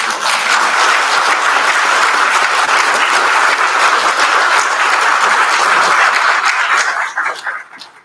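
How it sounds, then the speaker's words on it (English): Loud, dense applause from a lecture audience fills the room, holding steady for several seconds before tapering off at the end. "Shall we give him another round of applause?"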